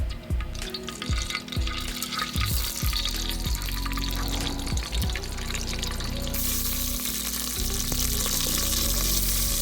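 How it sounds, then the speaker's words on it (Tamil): Mustard seeds spluttering in hot oil while making Chettinad kalani mandi, with a steady close sizzle broken by a run of sharp pops and crackles throughout. "நல்லா ஆயில் வந்து சூடு வந்ததும் கடுகு போட்டுடலாம்"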